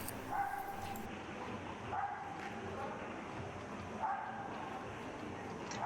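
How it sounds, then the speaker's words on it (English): A dog barks several times at a distance in Maria Luisa Park, Seville, faint and intermittent, over low background noise and murmuring voices. "you can probably hear the dog barking in the background."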